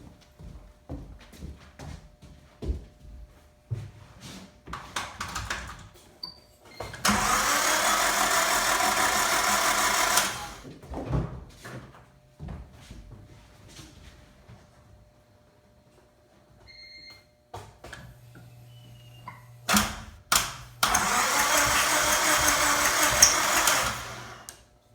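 An old car's starter cranks its engine, which turns over without firing; two separate bursts of loud, rapid cranking last about three seconds each, with scattered clunks and handling noises between them.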